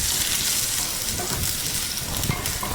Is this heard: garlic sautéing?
yes